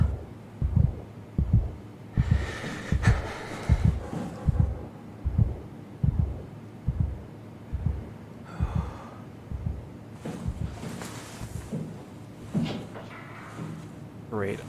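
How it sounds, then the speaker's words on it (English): A slow, heavy heartbeat thuds in the video game SOMA, evenly spaced low pulses that grow and fade across the stretch, joined by breathy gasps and muffled game ambience. "Why is my heart beating?"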